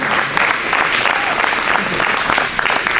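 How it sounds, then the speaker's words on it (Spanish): A church congregation claps steadily for a few seconds, dense and continuous applause filling the space. "Denle un aplauso al Señor."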